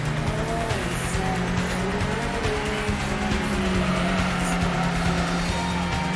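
A race car cornering in Gran Turismo, its engine droning loud and close with a steady pitched whine and tire squeal through the turn, continuous throughout.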